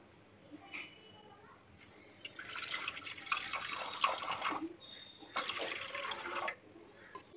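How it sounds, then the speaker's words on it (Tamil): Water poured in small amounts into a clay cooking pot, a light splashing trickle in two short bursts with quiet gaps between them. "இப்போ நான் இந்த மண்பானை சட்டியில் கொஞ்சமாக தண்ணி ஊற்றிக்கிறேன்."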